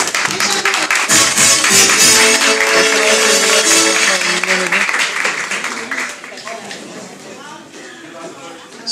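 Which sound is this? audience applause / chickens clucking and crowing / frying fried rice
audience applause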